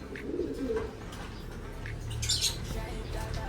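A racing pigeon (speedbird type) being handled in a loft beats its wings in rustling flurries, with soft coos and squawks close by over a steady low hum.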